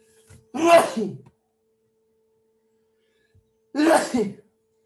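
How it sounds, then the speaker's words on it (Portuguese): Two sharp sneezes about three seconds apart, close and loud against an otherwise quiet background, during a Portuguese-language eighth-grade math class. "Espirros dominicais"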